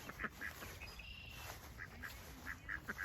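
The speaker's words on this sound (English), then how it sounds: "There's the duckies. Hey duckies." Ducks on an orchard walk in spring, a handful of soft quacks scattered across the clip at a distance over faint outdoor background noise.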